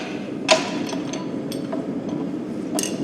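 A metal leaf cut-out being bumped loose from a vise in a blacksmith shop; a sharp metallic knock near the start, a few lighter taps, then another clink near the end, all over steady background noise.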